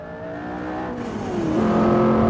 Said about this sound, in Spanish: cómo suena el turbo, qué guapo,